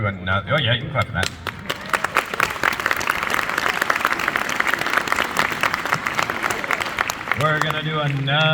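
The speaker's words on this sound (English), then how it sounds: "you can clap for that" Audience clapping after a simple song at a children's informance, a burst of hand claps following a brief voice, then dense applause that gives way to talking near the end.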